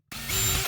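Power drill boring a hole through a plastic toilet dual-flush panel, a single short whirring burst that spins up, holds steady and cuts off, close and alone.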